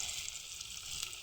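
Lote fish frying in hot oil in a pan, a steady close sizzle with faint crackles running unbroken, no voices.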